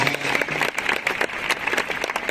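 A church congregation applauding, with dense, continuous clapping from many hands and some voices mixed in.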